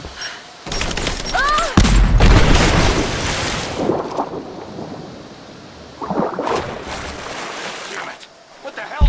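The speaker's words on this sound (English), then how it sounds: "Throwing a grenade." A grenade explodes during combat in Rise of the Tomb Raider, a sharp boom followed by loud crackling gunfire and rumbling debris, with soldiers' radio chatter around the blast.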